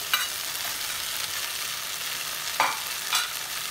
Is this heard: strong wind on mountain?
no